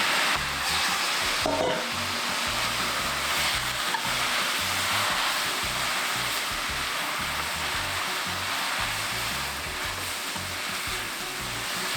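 Perilla leaves stir-fried in a pan with about three spoonfuls of water, giving a loud, steady sizzle and crackle that runs unbroken from start to finish, close up and with no voices.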